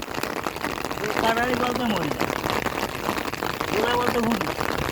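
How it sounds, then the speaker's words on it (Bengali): Steady rainfall patters over a flooded area where fish are being caught, a constant wash of drops running beneath a speaking voice. "কি সুন্দর বৃষ্টি নামতেছে"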